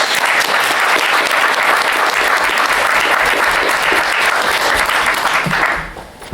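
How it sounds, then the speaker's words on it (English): An audience at a comics convention panel breaks into dense, loud applause that holds steady for several seconds before tapering off abruptly at the end. "please give a round of applause"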